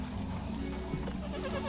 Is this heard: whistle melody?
no